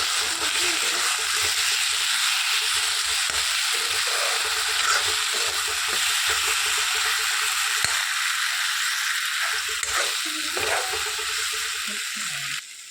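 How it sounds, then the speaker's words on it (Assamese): Steady, loud sizzling of potatoes with crushed ginger, garlic, onion and chilli frying in a hot pan, a continuous crackling hiss with occasional stirring clinks, no voices. "আৰু অলপ সময় ভাজি"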